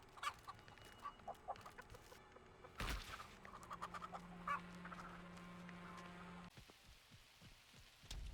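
Chickens clucking in The Texas Chainsaw Massacre video game, short scattered clucks and calls over a steady rain-like ambient hiss, fairly faint, with a brief louder burst midway.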